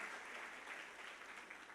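A church congregation claps steadily in sustained, even applause for almost two seconds, a dense wash of many hands at moderate distance.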